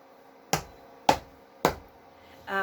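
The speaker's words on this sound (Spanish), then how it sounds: "Puedo zapatear." Three separate stamps of a foot land at steady intervals in a quiet room during a children's body-sounds activity, each a short thud, before a voice begins.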